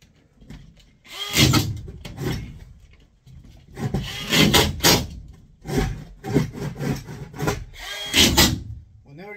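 Power drill driving screws into drywall being hung on a ceiling, heard as repeated short whirring bursts separated by brief pauses, fairly close, with some rubbing and handling noise between them.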